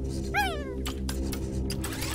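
A cat meows in the video game Planet of Lana: one clear, rising-then-falling meow rings out over a steady game soundscape, followed by a few soft clicks and rustles.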